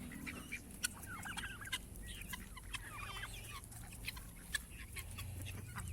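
A mixed flock of poultry, including turkeys, guinea fowl, ducks and Muscovy ducks, calls on a farm with faint, continuous clucking and chattering and occasional sharper calls standing out, all heard from a distance.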